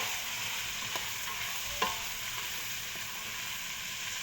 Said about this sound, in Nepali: अनि यसलाई चलाउनुपर्छ राम्रोसँग